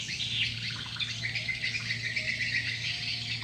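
Swiftlet (walet) calls play on a lure recording, a dense, continuous high chirping and twittering chorus, steady and fairly loud throughout, over a low constant hum.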